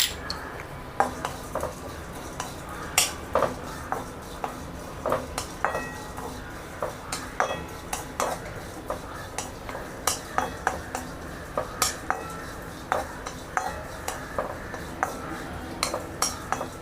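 Grated coconut being dry-roasted in a pan for niger seed chutney, with a spatula scraping and clinking against the metal in frequent sharp taps.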